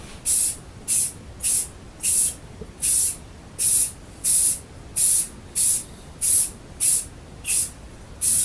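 Rust-Oleum satin clear enamel sprayed as a top coat onto a Mossberg Maverick shotgun: a steady series of about fourteen short, even aerosol hisses, each roughly half a second, evenly spaced with brief pauses, close and clear, no talking.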